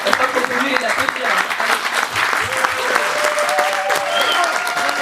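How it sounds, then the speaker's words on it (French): An audience at an African diaspora cinema screening event claps loudly and steadily, a dense continuous applause that fills the room, with voices faintly mixed in. "J'espère qu'on peut mieux les applaudir."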